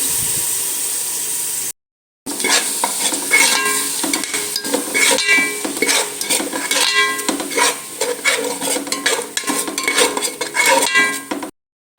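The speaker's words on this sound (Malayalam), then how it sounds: "അത് ചേർത്തിട്ട് നന്നായിട്ടൊന്ന് വഴറ്റിയെടുക്കാം" Tomato paste and tomato sauce sautéed in a pan, with steady loud sizzling and frequent scraping and stirring clatter that runs nearly unbroken, cut by two brief silent gaps.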